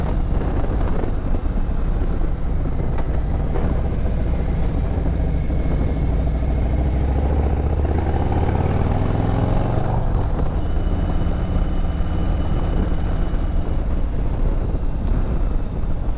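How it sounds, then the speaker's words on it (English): Heavy, constant wind roar buffets a rider on a 2021 Harley-Davidson Road Glide Special, mixed with the low drone of the engine while cruising, loud and unbroken throughout. "There's a lot more wind on this than there is on the Street Glide"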